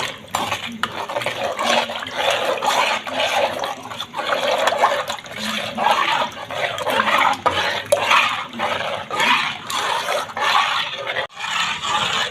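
Salt and turmeric are stirred into chillies in a bowl, producing continuous wet scraping and clattering of a spoon against the bowl with rhythmic churning, close and fairly loud.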